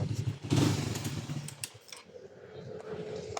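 A motorcycle engine revs nearby, a loud rumbling burst early on that eases into a lower uneven putter, with some clattering ticks scattered through.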